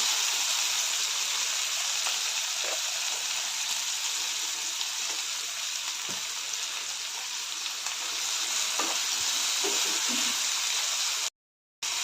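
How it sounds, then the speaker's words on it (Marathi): Tomatoes, onion and curry leaves sauté in a pan with salt, producing a dense, steady hiss like running water throughout, with faint occasional taps of a utensil and no talk. "टोमॅटो कढीपत्त्याची पानं हे सर्व सॉफ्ट होईपर्यंत परतून घेऊया"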